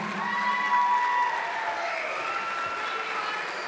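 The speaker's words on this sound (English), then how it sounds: "A round of applause for Alex," An audience at a folk ensemble's 40th anniversary concert applauds their MC, an even wash of clapping that starts strong and slowly fades, with a faint voice over it early on.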